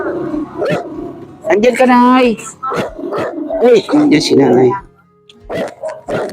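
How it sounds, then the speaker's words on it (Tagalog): A dog barks and yips around a rural home, short sharp calls breaking in among and between people chatting loudly nearby. "Mag-ingay ang aso."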